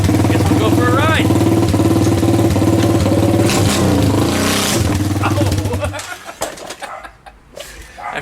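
A small engine with its choke on is started and ridden: a steady putt-putt idle hums close and loud with a voice speaking over it, then revs up and fades into rough, uneven engine noise.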